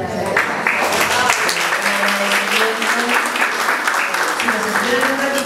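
A theatre audience gives loud, sustained applause after a stage play, a thick wash of clapping with some cheering voices mixed in, holding steady throughout.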